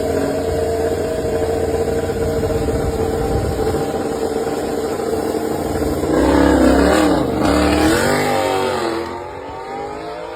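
Yamaha MotoGP prototype racing motorcycle engine, Vinales's machine, running during a test: a loud, steady mechanical drone that swells into rising and falling revs, then drops back to a quieter tone near the end.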